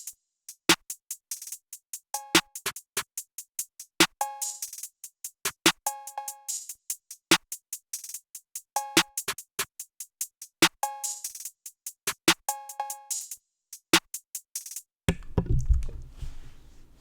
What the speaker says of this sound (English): And the drums sound like this.